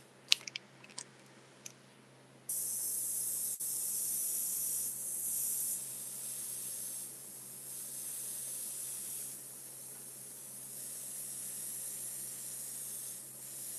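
An airbrush sprays paint onto a watercolor painting, a steady close hiss that starts after a few short puffs and holds for over ten seconds, dipping slightly in level at times.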